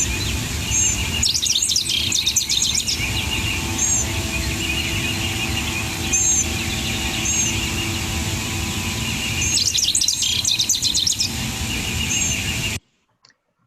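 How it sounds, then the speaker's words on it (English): Rufous-crowned sparrow song on a prairie, repeated short chirping phrases recurring every second or two over a steady hiss of outdoor background noise, with no talking. "if you were to see that bird, it would look like a rufous crowned sparrow"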